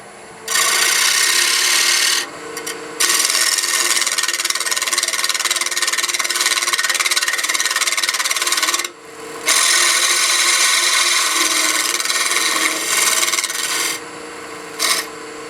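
A skew chisel shaves a flat, shouldered tenon on a spinning wooden blank on a lathe, giving a steady, loud hissing scrape in long runs broken by brief pauses as the tool lifts away.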